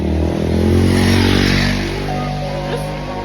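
A motorbike engine revs loudly and close up, a strong steady roar that eases slightly toward the end, with faint voices in the background.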